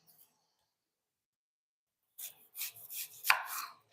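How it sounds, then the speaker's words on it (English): A knife chops onions on a cutting board, a quick run of close, crisp cuts and thuds after a couple of seconds of near silence, with one sharper knock near the end. "We're going to chop up the onions"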